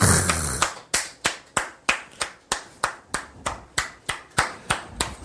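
Students in a classroom clap in unison, a run of about fourteen sharp, evenly spaced claps at a brisk steady rhythm, loud and close, after a short burst of scattered clapping at the start.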